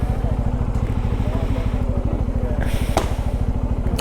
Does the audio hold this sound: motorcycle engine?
yes